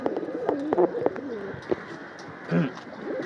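Pigeons in a rooftop sky-pigeon loft coo in short, repeated phrases close by, with soft bird calls and faint background noise between them.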